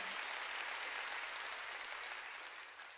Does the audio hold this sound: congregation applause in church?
yes